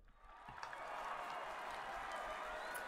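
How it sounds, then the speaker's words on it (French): Faint, steady applause from friends after a game of the racing board game Heat, a soft continuous patter of clapping that builds and holds for a couple of seconds. "on peut quand même applaudir les amis"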